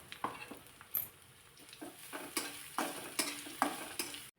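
A coconut masala paste of ground coconut, ginger, garlic and coriander fries in oil for a brinjal curry: a faint, soft sizzle under irregular scraping stirs of a spoon against the pan, with no talking.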